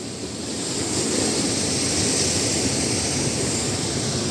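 Big ocean waves break and wash continuously along a beach by damaged old cottages, a steady broadband roar of surf close by with no voices.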